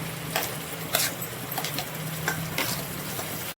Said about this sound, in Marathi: हे मिक्स करून घेऊया तो मसाला वाटलेला आहे तो टाकून घेऊया